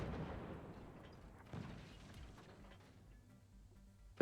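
Mortar fire in the Forts video game rumbles as dull, low booms beneath a steady wash of noise, with a sharper thump partway through and a sudden burst at the very end.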